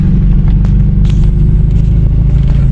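Steady low road rumble of a car driving along a road in Chernivtsi region, western Ukraine, a continuous close engine-and-tyre drone with faint crackles on top, no voices.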